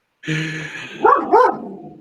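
A dog gives two quick, close barks right after a sustained whining tone, loud and clear with no voices present.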